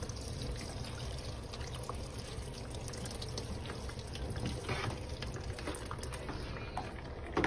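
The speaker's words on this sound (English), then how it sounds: "I'm gonna put some water in there." Water poured into a portable washing machine tub to rinse, a steady low trickling and splashing that runs continuously at moderate level with no talk.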